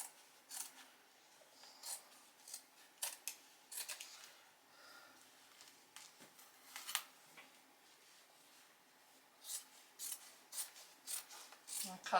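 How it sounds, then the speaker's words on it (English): Scissors snip through fabric for a work apron in short, separated cuts, close by and fairly quiet, with gaps of handling and rustling between the bursts of cutting. "And then I'm going to cut it right here."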